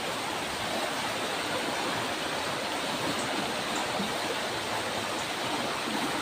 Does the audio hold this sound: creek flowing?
yes